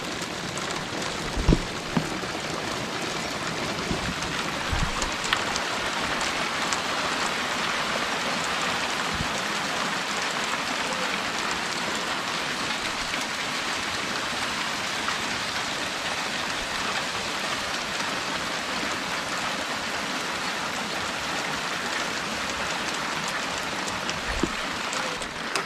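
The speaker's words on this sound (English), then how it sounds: "I haven't seen hail this big in a long time." Large hailstones falling outdoors make a dense, steady patter of impacts, with occasional sharper, louder hits standing out, and no voices throughout.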